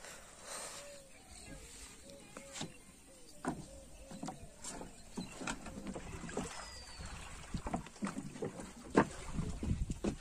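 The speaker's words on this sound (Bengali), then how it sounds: "নৌকা আছে।" A small boat crossing a canal in rural Bangladesh gives soft water splashes and paddling knocks at a moderate distance, growing busier toward the end, with a person talking in places.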